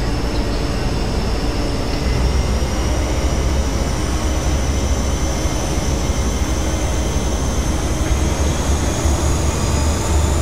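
An HST train runs at full throttle in the Railworks 3 simulator, a loud, steady diesel engine roar with a rising whine that holds for the whole stretch, alone with no voices.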